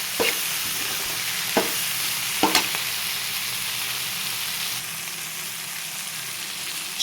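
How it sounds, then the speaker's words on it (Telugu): Flat beans frying in oil in a pan make a steady, bright sizzle, broken by three or four quick scraping strokes of a spoon as they are stirred, with no voices. "మధ్య మధ్యలో మనం ఇలా చిక్కుడుకాయలు అనేవి తిప్పుకుంటూ మంచిగా కలుపుకుంటూ ఉండాలండి"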